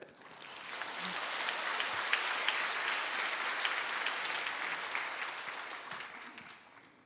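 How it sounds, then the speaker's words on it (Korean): Steady applause from a church congregation praising a worship team, a dense even clapping that swells and fades over several seconds with no voices over it. "우리 힘찬 격려의 박수를."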